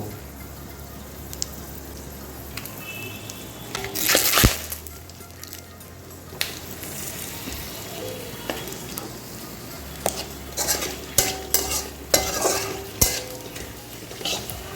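Bay leaves, dried red chillies and cloves frying in hot oil: a steady low sizzle close by, broken by scraping spatula strokes and clinks against the pan.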